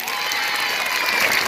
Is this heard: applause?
yes